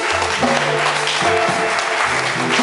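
A church congregation claps loudly and steadily in dense, close applause, with voices in the crowd and a musical tone underneath.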